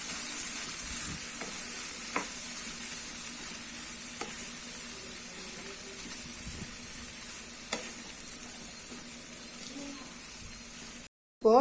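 A spoon stirs soaked rice flakes into vegetable upma in a pan, a quiet, steady sizzle with a few soft scraping knocks scattered through it. Near its end the sizzle cuts out to a brief silence before a new sound starts.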